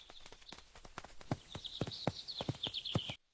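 Donkey hooves clip-clop along at a steady walking pace, each footfall sharp and close, ending abruptly.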